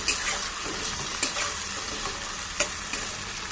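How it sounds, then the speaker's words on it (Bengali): Prawns frying in hot oil with a continuous crackling sizzle and a few distinct spatula scrapes against the pan, close-up and without any talking. "তেল গরম হয়ে গেছে, এবার দিয়ে দেব চিংড়ি মাছ।"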